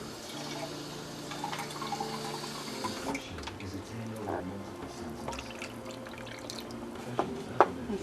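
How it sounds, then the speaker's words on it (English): Water splashes and swirls inside an empty sauce can as it is rinsed at a kitchen sink while homemade Italian sauce is made, with close dripping and running water for several seconds and some soft background noise. "I like to rinse the can."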